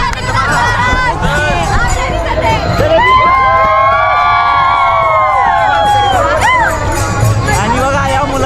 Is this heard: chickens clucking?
no